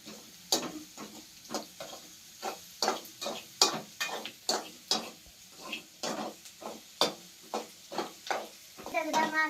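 Omelette masala frying in a pan while being stirred, a repeated rhythmic scraping and sizzling, about a dozen strokes in quick succession, close and moderately loud with no talking.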